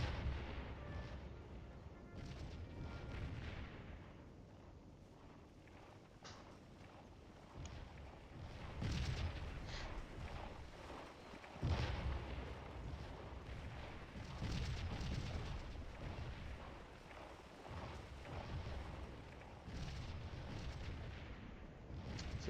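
Artillery fire in the Napoleonic-era battle game Scourge of War, a steady barrage of low, distant booms and rumbling thuds rolling under wind-like noise, repeating irregularly throughout with no pauses.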